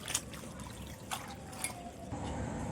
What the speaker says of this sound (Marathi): चांगली अशी स्वच्छ धुवून घेणार आहे भाजी